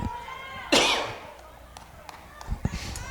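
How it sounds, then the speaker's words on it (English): At a middle school softball game on a cold night, a person near the microphone gives a sharp cough, then a few soft sniffles and short throat noises. "Starting to sniffle and cough, sniffle and cough."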